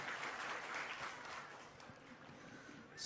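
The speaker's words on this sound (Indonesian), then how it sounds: "Tepuk tangan." Applause from villagers of Sumber Klampok, Buleleng, at a land title certificate handover ceremony, a steady wash of clapping lasting about three seconds at moderate, somewhat distant level.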